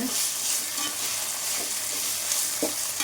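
Ginger and garlic stirred and sautéed in a pan for a prawn masala gravy, a continuous loud sizzle with occasional scraping strokes of the spoon, no voices.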